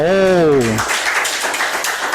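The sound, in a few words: audience applause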